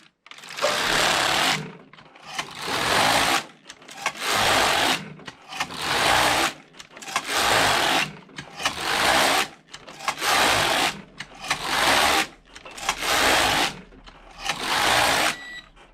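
A Passap E6000 knitting machine knits rows, its carriage making a loud rasping whirr on each pass, about eight even sweeps separated by brief pauses, close and alone.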